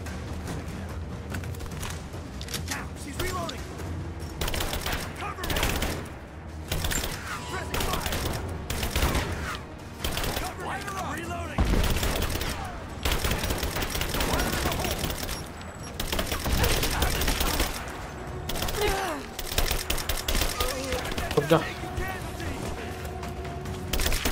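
Rapid bursts of gunfire in the video game Rise of the Tomb Raider crack repeatedly in dense volleys, with quieter gaps between, mixed with game effects and occasional voices.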